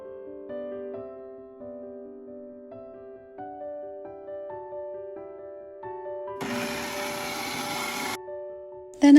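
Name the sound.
blender mixing eggs with rum and vanilla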